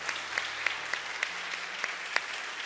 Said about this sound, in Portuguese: Pode bater palmas para você mesmo.